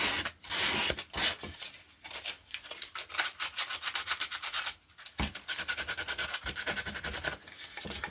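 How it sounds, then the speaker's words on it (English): Rhythmic back-and-forth scratching of hand sanding on wood, close and fairly loud, in quick strokes with short pauses between bursts. "Now, just while I'm sanding bits"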